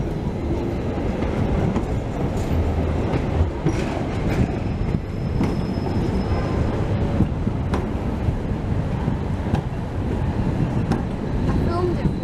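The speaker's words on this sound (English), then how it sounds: "Is a tram now. Two different types of tram as well." A blue Vienna tram rolls along its rails close by, with a steady rumble of wheels and occasional clicks and faint squeals running through the whole passage at fairly loud, even level.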